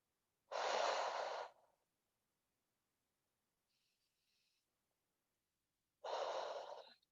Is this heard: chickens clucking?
no